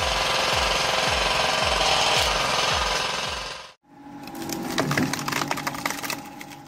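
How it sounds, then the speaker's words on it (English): A chainsaw bites through wood on a firewood processing machine with a harsh, grinding buzz, rhythmic pulses as it cuts, then a short pause before rougher, splintering cutting resumes. "The sound of a wood saw is quite impressive, isn't it, guys?"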